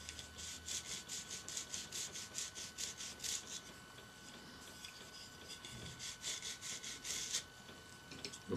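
Edges of a sewing needle being deburred with a file, giving a quiet, steady series of short rasping strokes close by, with a brief pause midway before the strokes resume.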